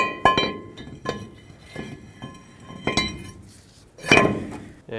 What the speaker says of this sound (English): Now I'm going to put my rotor on.